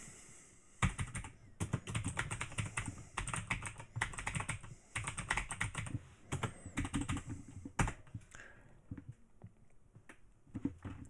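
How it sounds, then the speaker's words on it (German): Code being typed on a computer keyboard, close rapid bursts of key clicks in uneven runs with brief pauses between them. "Das trage ich auch mal schnell in unseren Code ein."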